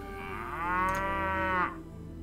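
A single drawn-out cow moo from cattle in Mount & Blade: Viking Conquest, rising, holding for about a second, then tailing off over a low background hum.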